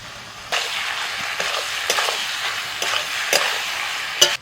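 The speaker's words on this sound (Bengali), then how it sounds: "তিল বাটাটা দেওয়ার পর আমি কিছুক্ষণ নাড়াচাড়া করতে করতে দেখুন একটু শুকনো শুকনো হয়ে গেছে" Fish with ground white sesame and green chilli paste stirred in hot oil in a pan, a close, steady sizzle broken by scraping strokes of the spoon.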